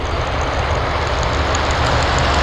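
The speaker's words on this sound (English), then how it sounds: "Atlas, we have Atlas 8904 flying to Miami. That's a 747-8." An Atlas Air Boeing 747-8 jet flies past at Anchorage airport, its engines giving a steady, loud broadband roar with a low rumble that holds evenly throughout and has no voices over it.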